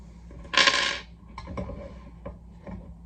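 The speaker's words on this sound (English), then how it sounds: "we're just gonna line it up and just go ahead and drop our screws in" Small screws drop into a flat-pack desk's parts during assembly, landing with a bright rattling clatter followed by a few light ticks and clicks, close by and quiet.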